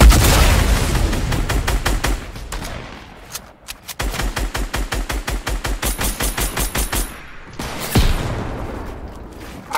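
Rapid automatic AR rifle fire in a video game, loud and close, coming as several long sustained bursts of evenly spaced shots with brief pauses between them.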